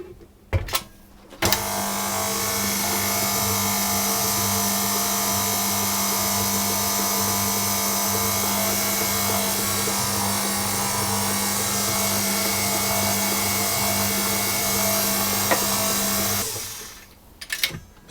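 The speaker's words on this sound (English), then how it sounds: "I'm just going to mix this gently to get it incorporated" An electric mixer churning flour into lemon cake batter, a steady loud motor whir running continuously for about fifteen seconds after a brief start, then cutting off.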